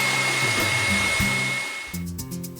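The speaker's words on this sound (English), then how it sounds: "I'm gonna whisk these until they form really soft peaks. High speed." Electric mixer whisking egg whites with a pinch of salt at high speed toward soft peaks, a steady close motor whine that shifts pitch near the end as the beaters change.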